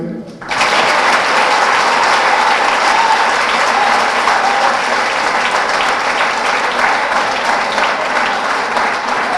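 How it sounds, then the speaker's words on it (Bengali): An indoor audience at a seminar on football and cricket development at BKSP applauds cricketer Mushfiqur Rahim, a loud, dense wall of clapping that starts abruptly and holds steady to the end. "আপনাদের কাছ থেকে আমি একটা হাততালি পেতে পারি মুশফিক রহিমের জন্য"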